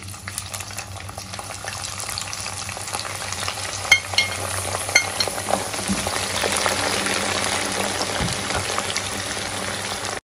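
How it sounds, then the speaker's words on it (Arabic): Chopped green and red peppers fry in the same oil used for the eggplant in a moussaka: a steady, close sizzle with clicks and scrapes of stirring throughout. "في نفس الزيت اللي انا حمرت فيه البتنجان. هنزل كده معايا هنا فلفل كده متقطع، فلفل اخضر"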